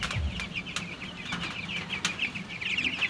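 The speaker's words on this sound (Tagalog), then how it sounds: "15 days po yung ating mga sisiw." Fifteen-day-old chicks give a steady chorus of high peeping, with brief wing flutters and scuffling, close and continuous throughout.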